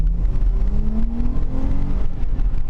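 A Dodge Challenger with the 3.6 engine accelerates, its engine note climbing steadily in pitch as a loud, close drone, heard alone without talk.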